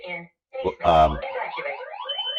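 An X-Sense smoke alarm base unit in a kitchen, two floors from the triggering detector, sounds a tonal electronic warning with a synthesized voice, moderately loud and close, starting after a brief pause and continuing steadily.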